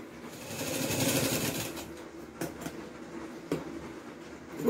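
A sewing machine stitches a waistband strip onto skirt fabric with a quiet, rapid mechanical whir. It runs briefly, then a few clicks and knocks follow.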